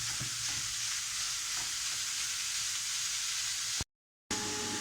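Beef and pork mince, 500 grams, sizzles steadily in a hot pan as it browns, a dense continuous frying hiss with faint stirring scrapes, broken by a brief silent gap near the end.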